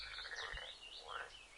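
Toads croak beside an emerald green lake, a steady rippling chorus mixed with higher chirping calls, moderately loud and continuous with no voices.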